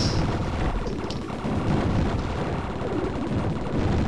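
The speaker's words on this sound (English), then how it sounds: "So many explosions." Dense, continuous booming and crackling blasts in the video game Tyrian, loud and close, like rapid explosions layered over one another with no pauses.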